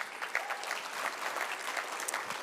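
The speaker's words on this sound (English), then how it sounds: "Let's give them a round of applause." A room full of event attendees gives a brief round of applause, steady dense clapping at moderate level throughout.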